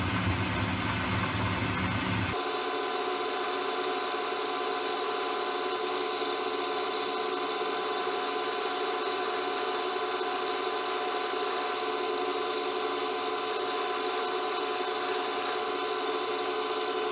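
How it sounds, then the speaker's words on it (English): Drilling on an Elliot 14S metal lathe gives a steady mechanical whir with a rattling, ratchety edge, running continuously after a brief rougher start, fairly close and with no talk. "Must be marvellous having drills that cut on both flutes."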